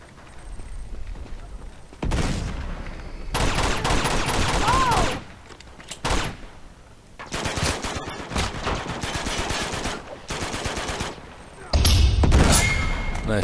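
Explosion and rapid gunfire from an Uncharted 2 multiplayer match, with dense bursts of shots and blasts breaking out repeatedly between quieter gaps, loud and close.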